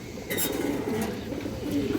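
A female pigeon from a matched breeding pair of high-flyer pigeons coos in low, soft, rolling phrases, close by and alone, with faint chirps from other birds behind.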